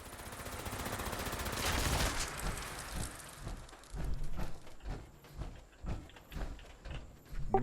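Repeated gunshots fired at a creature in Fallout 76, a burst of rapid fire followed by spaced single shots with a few sharp reports near the end, loud and close over a steady background.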